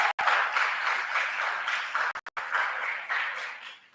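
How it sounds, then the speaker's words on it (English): Audience at a senior thesis presentation applauding two faculty panelists, a steady wash of clapping broken by a few brief dropouts, easing off at the end. "Give them a round of applause"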